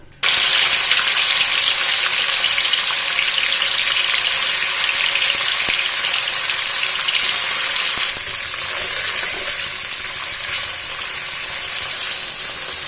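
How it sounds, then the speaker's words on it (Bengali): Paneer fries lightly in hot oil with a loud, continuous bright sizzle that starts abruptly and holds steady, easing slightly toward the end, close and without any voices. "তেলটা গরম হয়ে গেছে, প্রথমে পনিরটা হালকা করে ভেজে নেওয়া হচ্ছে।"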